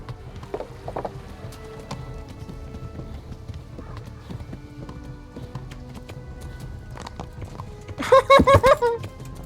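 Horse hooves clip-clop steadily in a medieval video game, a rhythmic running gait under ambient noise, with a sharp horse whinny near the end.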